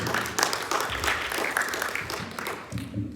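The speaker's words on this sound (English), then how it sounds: "Big round of applause for Carissa" Applause from a workshop audience at a spirituality and arts forum, moderate clapping running throughout with brief voices mixed in.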